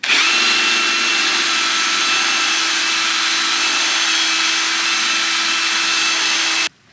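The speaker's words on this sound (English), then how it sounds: "I am now going to go over it with a nylon brush." A 400-grit nylon abrasive brush spinning on a power tool across a carved wood board, producing a loud, steady whirring hiss with a constant motor hum that runs unbroken before stopping abruptly at the end.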